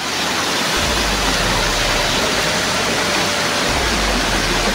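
A river flows close by in a steady, loud, unbroken rush of water, with a low rumble underneath and no voices.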